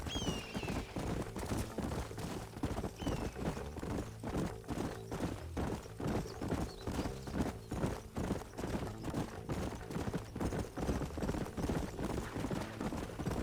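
Horses ridden in the video game Red Dead Redemption produce steady, rhythmic clip-clopping hoofbeats that continue evenly throughout, close and clear over a bed of tonal background music.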